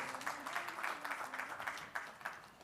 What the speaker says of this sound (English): But a round of applause to Mr.